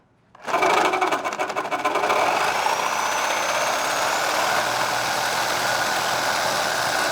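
Sawzall reciprocating saw cutting off a part on a 2019+ Chevy 1500 during a 4-inch lift install: starts abruptly, then a loud, close, continuous buzzing rasp with steady pitch.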